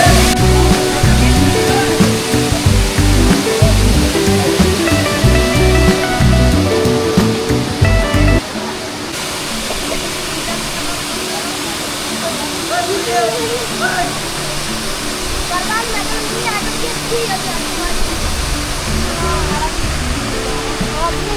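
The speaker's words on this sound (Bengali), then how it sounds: "ফাইনালি আমরা চলে আসলাম সেই বিখ্যাত ঝরঝরি ঝর্ণাতে।" Jhor Jhori waterfall in the Sitakunda–Mirsarai hills roars in a loud, continuous wash of falling water, with a rhythmic, music-like layer over it for the first eight seconds before the steady roar carries on alone.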